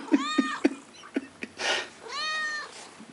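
A domestic cat meows repeatedly, several short close calls in a row followed by a longer drawn-out meow, fairly loud and alone.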